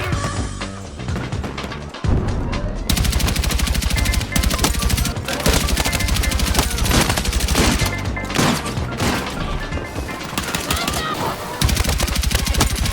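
Automatic fire from a DRS IAR rifle in a shooter video game, long loud continuous bursts with brief pauses between them, close and dominant, with a player's voice faintly underneath.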